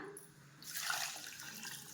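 Water is poured onto rice in a cooking pot while making biryani, a short, soft splashing pour that swells midway and then continues quietly.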